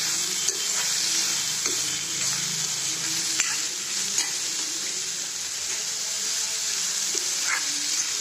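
Chopped cucumber and onions frying in a little oil for a spicy puffed-rice dish, giving a steady, even sizzle close by with a few light clicks of stirring.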